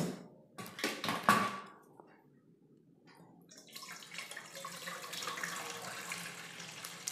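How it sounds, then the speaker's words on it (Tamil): Beetroot liquid strained and poured into another vessel while homemade beetroot wine is made. A splashy pour runs for about a second, then after a pause a steadier trickling stream follows, all fairly close. "இதை இன்னொரு பாத்திரத்துக்கு வடிகட்டி மாற்றிக்கலாம்"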